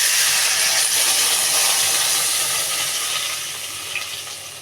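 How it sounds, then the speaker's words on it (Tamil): Curry leaves sizzling in hot oil while tempering for buttermilk rice, a loud continuous steamy hiss that fades slightly toward the end, no talk. "கருவேப்பிலையை போட்டு இப்போ அதோட மோரை சேர்க்க போகிறோம்."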